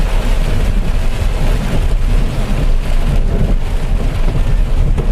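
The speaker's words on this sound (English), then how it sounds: "Oh shit, this is a bad storm." Heavy rain pours steadily with low rolling thunder rumbling underneath, a loud, continuous storm with no voices.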